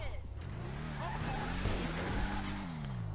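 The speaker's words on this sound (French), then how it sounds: "Elle fait des wheelings la voiture." Tulip M-100 dragster in a video game, engine revving and rising in pitch as it pulls wheelies, with tire noise and someone talking over it.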